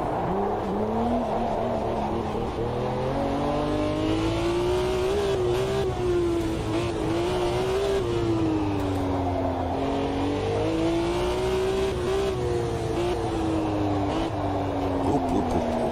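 A car engine revs continuously as the driver brakes and downshifts two gears using the heel-toe technique, with the pitch of the engine note rising and falling steadily near the listener.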